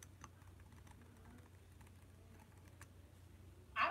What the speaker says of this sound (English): I see Lee, they're typing her name